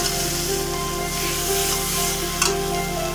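Spiced mashed-potato filling for shop-style singara sizzles steadily in a pan while being stirred and sautéed, a close, continuous frying hiss with a brief louder scrape near the end.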